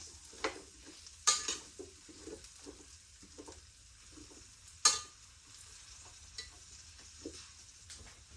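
Winter vegetables sauté in bacon fat, giving a soft, steady sizzle close by, broken by a few sharp scrapes and clacks of stirring.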